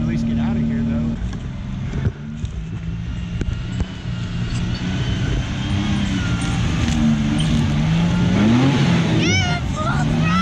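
A Toyota Tacoma's engine revs hard and steady while its tires spin in snow and mud, loud and close throughout, with a brief rising whine near the end and voices talking over it.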